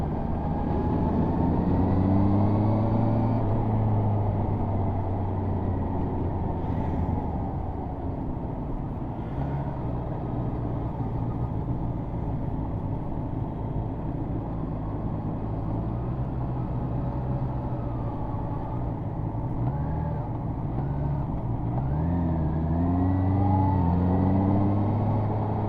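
A Honda motorcycle with E-Clutch downshifts while riding, its mid-pitched engine note dropping and rising through several gear changes, with sweeping rev blips near the start and end, steady and close under wind.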